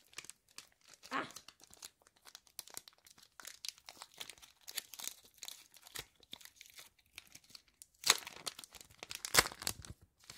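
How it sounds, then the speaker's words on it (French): Pokémon booster pack wrapper being torn open, with crinkling plastic in scattered close bursts and a couple of sharper tearing rips toward the end. "Les boosters sont toujours difficiles à ouvrir."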